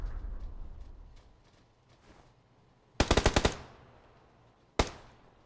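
A rapid burst of about six gunshots in the video game PUBG, followed by a single sharp shot a moment later, loud against a quiet background.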